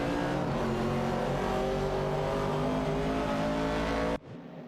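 A 1969 Chevrolet Camaro and a Plymouth Barracuda racing in a video game, with a loud, continuous engine roar that holds steady at high revs and then cuts off abruptly near the end.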